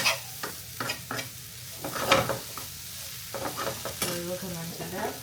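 Dry sambharo being stir-fried in a small amount of oil: a soft sizzle with repeated scraping and clinking of a spatula against the pan in irregular strokes, close up.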